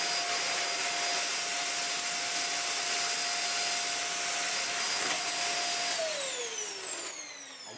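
Dyson UP15 upright vacuum cleaner running steadily with a loud, constant motor whine, then winding down in pitch as it is switched off near the end; no talking.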